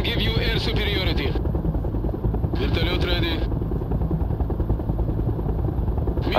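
A Soviet Mi-28 attack helicopter thrums with a steady rotor chop in the World in Conflict game, while radio-style voices talk over it in two short bursts.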